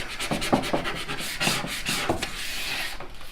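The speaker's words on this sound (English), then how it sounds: "you're just able to kind of burnish it to the wood, get everything stuck down really well" Stencil being burnished down onto pallet wood, a dry scraping rub in short repeated strokes, close and moderately loud with a few sharper scuffs.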